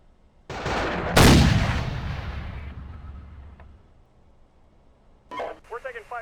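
Gunfire in the video game MegaForce: a sharp heavy blast that rings out and slowly decays, followed by a burst of short radio-style voice chatter near the end.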